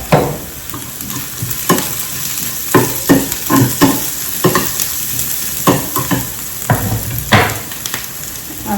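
Onion and chili garlic paste fry in a pan in a home kitchen, giving a loud, steady sizzle with repeated sharp spoon-scraping stirs. No speech.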